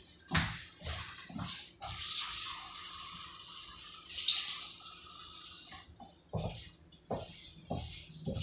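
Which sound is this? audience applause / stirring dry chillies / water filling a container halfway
water filling a container halfway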